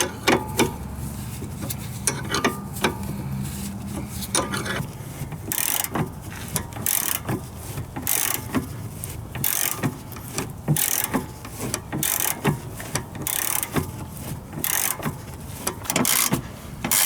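On an Integra's rear lower control arm install, a hand ratchet tightens bolts in a steady run of close mechanical clicks with brief pauses and occasional knocks. The clicking continues throughout.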